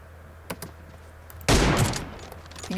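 Gunfire in PUBG Mobile: a few faint clicks, then a sudden loud burst of rapid shots that erupts midway and fades over about half a second, with quiet game ambience around it.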